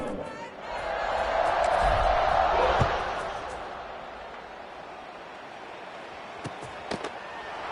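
A stadium crowd in the College Football 26 video game swells into a loud roar at kickoff, then eases to a steady murmur, with a few sharp thumps near the end.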